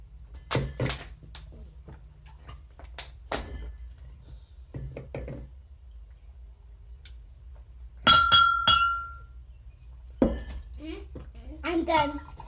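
Drinking glasses clink and rattle as they are handled during a family drink, with sharp ringing taps in short clusters and a bright sustained clink near the end, heard under and between a child's and adults' chatter.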